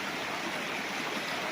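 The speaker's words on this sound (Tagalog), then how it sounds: "Yung ilog na tabi mismo ng property." A river flows right beside a farm lot in Majayjay, Laguna, a soft continuous broadband rush of water, moderately distant and steady throughout.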